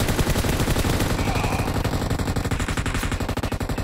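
Rapid automatic gunfire in PUBG Mobile rattles continuously in dense bursts, loud and close, a relentless stream of shots with no pauses.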